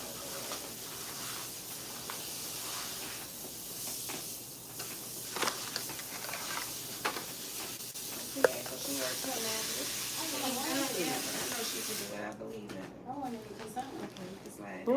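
Water spray rinsing a client's hair at a salon shampoo sink, a steady hiss running throughout and cutting off near the end, with a person talking over it.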